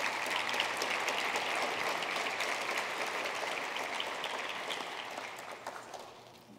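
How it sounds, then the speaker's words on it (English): Audience applause for the panelists at a 2014 medical admissions panel, a dense, sustained clapping from a seated crowd that holds steady and then slowly fades toward the end. "let's give a round of applause to our panelists"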